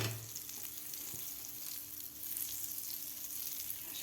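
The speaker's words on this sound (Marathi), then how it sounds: "थोडंसं बटर लावून घ्यायचं आहे तव्याला." Butter sizzles on a hot tawa in a soft, steady hiss that holds evenly throughout, quiet and close, with no talking.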